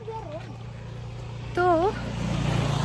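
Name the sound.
motorbike passing from behind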